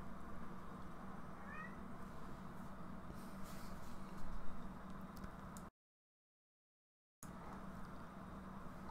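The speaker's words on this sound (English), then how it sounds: "one of my cats is bringing me something, apparently." A house cat meows faintly and briefly over a steady low room hum. A short stretch of total silence breaks the sound partway through.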